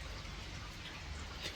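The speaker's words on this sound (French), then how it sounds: "il pleut comme vache qui pisse" Rain falls steadily and faintly as a soft, even background hiss during outdoor work building a swimming pool.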